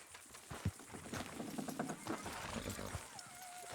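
Horses' hooves clip-clopping in Red Dead Redemption 2, a run of close, uneven hoof strikes on the ground with a faint whinny, under background ambience.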